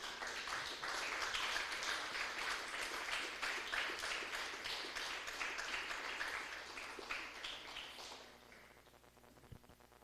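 Church congregation giving loud applause to the Lord after a sermon, dense continuous clapping from many people that holds steady, then fades out over the final seconds into quiet.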